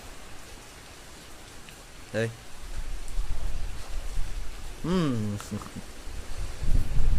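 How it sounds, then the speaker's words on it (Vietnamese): Heavy rain from Typhoon Tembin pours down steadily in a constant hiss in Thap Muoi, Dong Thap, Vietnam, while a person speaks briefly in Vietnamese now and then over it. "Rất là mưa các bạn ơi"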